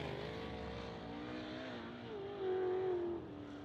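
A dirt race car on a qualifying lap at Outlaw Speedway sounds as a sustained engine roar with a rising rev tone late on, heard at a moderate distance over a busy track ambience.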